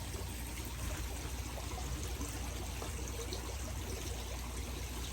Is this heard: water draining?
yes